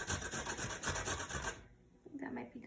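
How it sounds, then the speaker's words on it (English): A carrot rasped against a kitchen grater for a cream of asparagus soup, giving a fast run of close scratchy strokes that stops partway, followed by a quieter soft clatter. "she's grating up the carrot"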